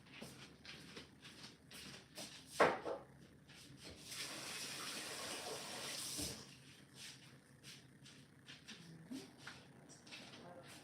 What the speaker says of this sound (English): Okay, wash this one paintbrush that I used.